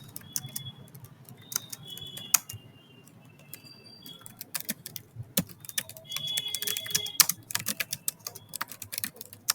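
Someone types a long paragraph on a computer keyboard, fast irregular clicks and key taps in bursts with brief pauses, close and fairly quiet.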